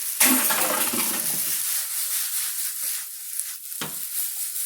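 Steady sizzling from Shin Ramen noodles and vegetables stir-frying in a hot frying pan, with a few sharp clinks and scrapes as it is stirred and flipped, no voices.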